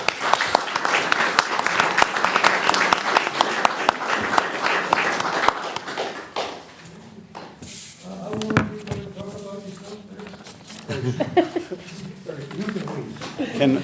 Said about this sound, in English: a round of applause for our 3 candidates